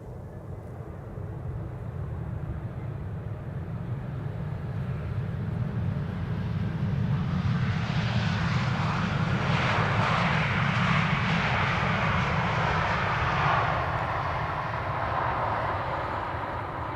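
A PLAY A320neo airliner arriving at Amsterdam Schiphol on a sunny winter day makes a rising, then fading jet roar as it passes close by, with a rushing whine peaking mid-pass and no voices.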